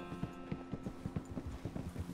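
Hooves of a Tennessee Walker horse in the video game Red Dead Redemption 2 clip-clop at a steady walking rhythm, evenly spaced, close and moderately loud.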